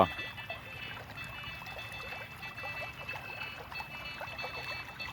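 Water trickles and gurgles steadily as it flows down a drain, a quiet continuous splashing sound with no talking.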